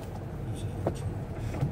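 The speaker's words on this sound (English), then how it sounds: "This car, the Volkswagen. So we're doing 25 miles per hour at the moment." Volkswagen car driving at about 25 miles per hour, with a low steady engine and road rumble inside the cabin and faint soft noises over it.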